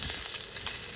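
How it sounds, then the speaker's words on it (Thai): Meat sizzles steadily on a hot Thai pork grill pan (moo kratha) in a close, continuous crackling hiss with no pauses. "เอาเนื้อมาย่างอีก"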